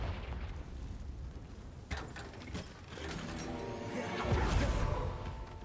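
A Confringo blasting spell going off in the game Hogwarts Legacy, a muffled booming explosion with rumbling, crackling debris that swells toward the end, heard over game ambience.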